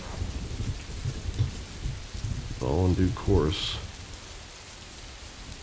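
Steady rain falls in the video game Rising World, a continuous soft hiss throughout, with a voice speaking briefly over it partway through.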